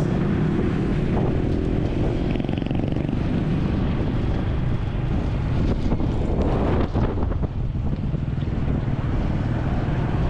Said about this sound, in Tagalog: Ang lakas ng hangin na.